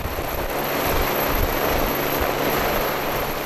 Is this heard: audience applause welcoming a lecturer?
no